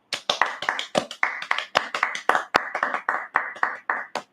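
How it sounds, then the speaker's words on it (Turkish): Hand clapping requested during a live online broadcast: a brisk, uneven patter of close, dry claps from one or a few people, loud and continuous for several seconds with no talk. "Şöyle bir 6-7 saniyelik bir alkış."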